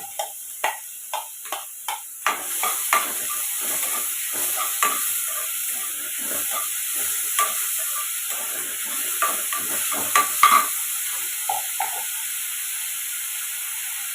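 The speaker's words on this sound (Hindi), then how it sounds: "अभी डाल देंगे प्याज। और ये हल्के से ब्राउन होंगे" Finely chopped onions hiss and crackle softly in a pan, with a string of clicking taps at the start and intermittent stirring strokes over the steady sizzle.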